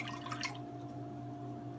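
Four cups of water pour into a bowl while fried chicken is being prepared, a soft, faint splash and trickle that is strongest near the start, over a steady low hum.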